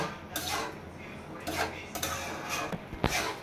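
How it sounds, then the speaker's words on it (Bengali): Dal and spices sautéed in a pot, stirred with a spoon that scrapes and clinks against the metal in several quiet, uneven strokes with soft background noise. "এখন এটা ভালোভাবে কষিয়ে তারপর পানি দিয়ে দিব।"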